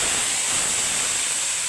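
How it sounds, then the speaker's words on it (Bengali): Hot oil with browned garlic poured over cooked dal, giving a loud, continuous close-up sizzle and hiss that holds steady throughout, with no voices. "এখন বাগার দিব আমি।"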